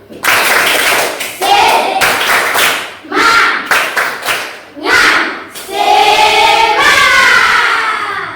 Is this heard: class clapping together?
yes